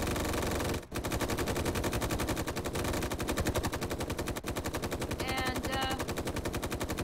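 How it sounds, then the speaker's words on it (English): Machine gun fire in the video game Space Engineers, a continuous rapid stream of loud shots lasting several seconds with only a brief pause, and a faint high chirping sound briefly heard partway through. "I walk towards a ship and I hear a machine gun."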